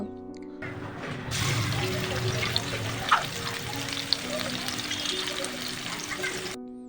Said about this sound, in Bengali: পেঁয়াজগুলো হালকা ভেজে তারপরে ঝুরি মাংসগুলো দিয়ে দিব।